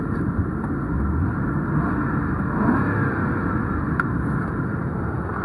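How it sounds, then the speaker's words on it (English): A 2005 Ford Crown Victoria Police Interceptor with 131,000 miles runs close by, giving a steady, loud engine rumble with only a slight swell partway through and no voices. "Let me rev it up for you again."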